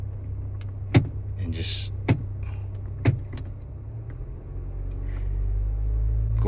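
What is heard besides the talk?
Honda CR-V running while shifting through gears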